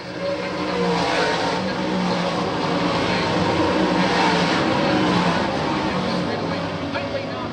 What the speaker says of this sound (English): Johnny Lito runs up there in the number 33 car